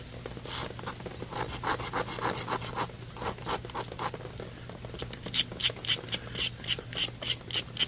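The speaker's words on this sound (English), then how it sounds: "we do have to grind it to be a Dalton. Let's do it with a file." A steel file rasps against the base of a flint Dalton point to grind its edges, giving a steady run of scraping strokes that grow sharper and more rhythmic toward the end, with no talk.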